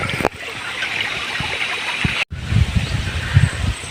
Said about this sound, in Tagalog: ito yung mga tubig dito kumukuha ng tubig yung mga palay